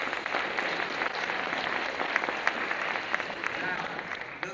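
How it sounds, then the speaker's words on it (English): Steady, dense applause from the audience at an Akron mayoral debate, sustained clapping for the candidates lasting several seconds with a few sharper claps standing out. "Let's give all of our candidates a round of applause."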